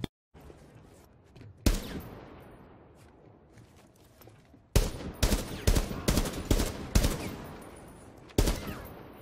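Gunfire in the tactical shooter game Rainbow Six Siege: a single loud shot with a long decaying tail, then a quick burst of several sharp close shots and one final shot, with no talking.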